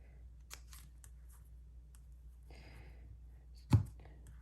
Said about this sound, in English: Take my ribbon scissors and trim that off.